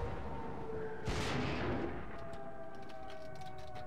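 A tank cannon fires in the game World of Tanks as one loud boom with a rumbling tail, set over a constant engine drone and faint battlefield noise.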